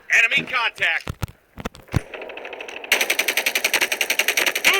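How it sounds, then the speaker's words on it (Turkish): Rapid M16 rifle fire in the mobile shooter game Call of Duty Mobile, a fast, loud, steady automatic burst filling the second half, after a few isolated shots and someone speaking earlier. "bak yine M16 ile sıkıyor bu 153 seviye"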